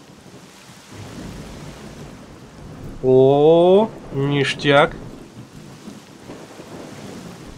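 Rain and thunder in the video game S.T.A.L.K.E.R. Shadow of Chernobyl, a soft steady patter of rain with low rumbling underneath. A voice exclaims loudly partway through.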